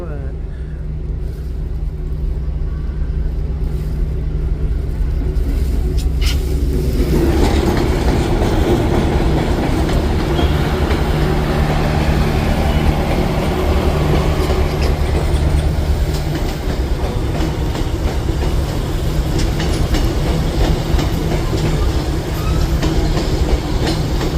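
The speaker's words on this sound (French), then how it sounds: "Quand même des longs trains de passagers." A long passenger train in Hue, Vietnam rumbles past close by, with steady clattering wheels and a continuous loud roar that swells after a few seconds and holds.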